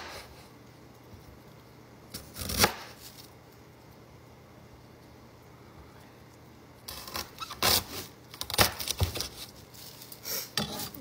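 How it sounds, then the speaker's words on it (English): A knife cuts a piece of ginger root into chunks on a board: one sharp chop, then a cluster of several quick cutting knocks later on, over a quiet room. "Got this much ginger left. I'm just going to cut it in chunks."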